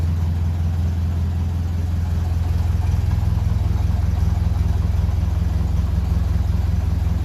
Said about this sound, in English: makes some fair noise with the exhaust.